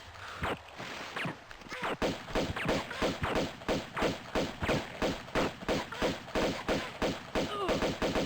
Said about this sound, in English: Great, I can't wait to get shot by this guy.